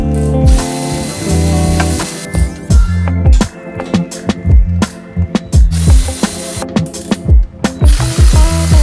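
A ratchet clicks in quick bursts while a Mitsubishi Evo X front bumper is being removed, loud and close, with repeated short sequences of sharp pawl ticks and brief pauses, no talking.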